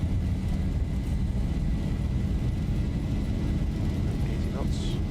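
Airliner jet engines spooled up to takeoff thrust in X-Plane 12, a steady, dense low roar with a faint tonal whine running throughout, sustained and loud from start to finish.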